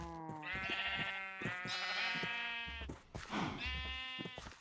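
Sheep in a farming video game bleat over and over in quick succession, several loud, harmonically rich calls close together with short gaps between them.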